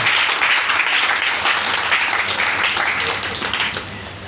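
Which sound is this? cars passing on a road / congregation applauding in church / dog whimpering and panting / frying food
congregation applauding in church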